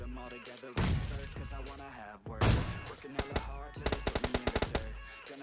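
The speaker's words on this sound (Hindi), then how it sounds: "अब देखो इसको मैं मस्त AWM का शॉट" Gunfire in a video game booms loudly over busy game sounds, ending in a fast run of sharp, evenly spaced shots.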